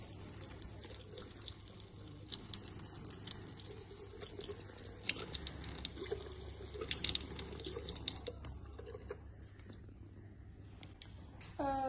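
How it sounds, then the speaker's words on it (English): A steady stream of water runs from a tap over a microscope slide, with a continuous close hiss and splash throughout and a small clink near the end. "I will rinse the slide with a stream of water."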